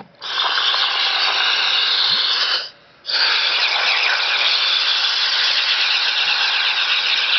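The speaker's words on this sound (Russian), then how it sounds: "Октопус встал на фрифлоу." A Beuchat 200 regulator octopus, tested in cold water, free-flows with a loud, steady hiss of escaping air that cuts out briefly for about a third of a second, then resumes just as strong.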